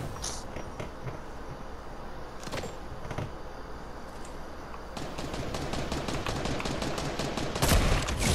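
Gunfire from a multiplayer shooter video game during a duos match, a few sharp isolated shots early on followed by a faster run of cracking bursts in the second half over constant background game noise.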